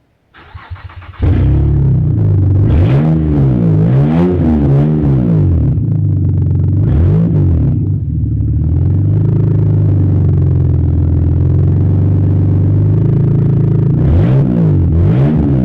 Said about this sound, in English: So, what does it sound like with open exhaust?